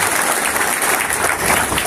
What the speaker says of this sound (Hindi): सब लोग ताली बजा करके राजेंद्र जी का स्वागत करें।